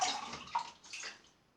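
Water splashed onto the face to rinse it after a wet shave with a vintage 1963 Gillette Slim razor and tallow soap, a short close run of soft splashing and trickling at a sink, with no talking.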